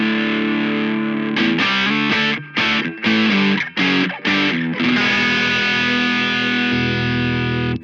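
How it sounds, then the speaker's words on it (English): Safari Pedals Dirty Dog drive effect run through filters on an electric guitar: a loud, gritty distorted riff of chopped chords with brief gaps, settling into a long sustained note, with no talking. "You can use a drive with the filters."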